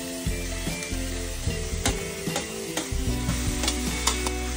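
Carrots stir-frying in a pan for pancit guisado, a close steady sizzle broken by sharp scraping and clanking stirs of the utensil, no talk.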